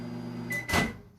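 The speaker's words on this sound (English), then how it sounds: "open the microwave door." A microwave oven hum cuts off, then its door unlatches with a broadband clunk and brief rattle, followed by a sharp click at the end.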